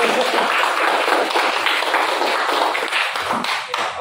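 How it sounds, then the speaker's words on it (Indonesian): A church congregation clapping their hands, a busy crackle of many hands that stays fairly steady and thins slightly near the end, with no voices over it. "Tepuk tangan yang beneran dong"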